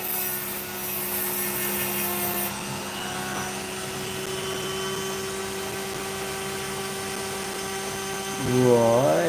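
A small high-speed rotary drill nicks and trims a piece of opal, giving a steady whining hum with harmonic tones that holds throughout, growing louder and rougher near the end as the bit bites in.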